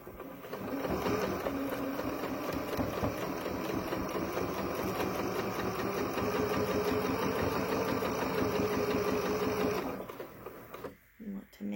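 A sewing machine stitches down elastic in a fast, continuous mechanical whir for about nine seconds, close and steady, then stops abruptly with fabric handling noises after.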